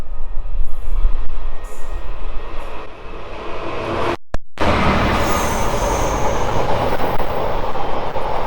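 A freight train passes on the Basingstoke to Reading line at Mortimer, a loud, sustained close rumble and roar of wagons rolling by, with no voices over it.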